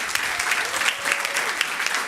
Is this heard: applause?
yes